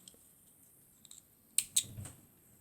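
Scissors snip paper for a Christmas bird craft: a few faint clicks, then two sharp close cuts followed by a brief rustle, in a quiet room.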